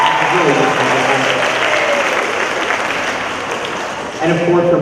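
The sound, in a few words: school audience applause for a teacher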